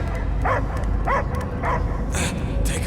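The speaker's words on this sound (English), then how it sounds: "I hear only barking." A dog in the Guardians of the Galaxy video game barks three times in a steady rhythm, loud and close, over a constant low rumble of game ambience, followed by brighter hissing bursts.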